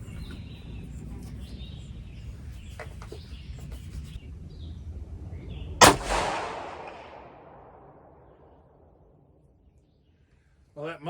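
A single sharp, loud rifle shot from a .223 Howa Mini Action with a muzzle brake at a shooting range, ringing out with a long decaying echo over quiet background noise, then a faint clack at the end.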